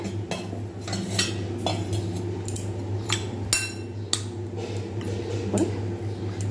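A spoon clinks repeatedly against a bowl while cornflour is stirred into water, producing irregular metallic taps and scrapes close by over a low steady background hum.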